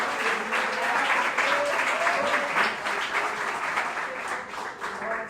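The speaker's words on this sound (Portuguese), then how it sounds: "Você pode aplaudir ao Senhor com o seu melhor" Congregation at Igreja de Nova Vida do Catete applauding the Lord, a continuous, fairly loud wash of crowd clapping with voices mixed in underneath.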